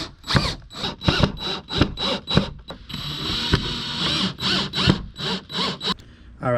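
Power driver running screws back into a kayak rudder handle on a Seastream Angler 120 PD, in repeated short whirring bursts with brief pauses, then a longer slow steady run, close and fairly loud.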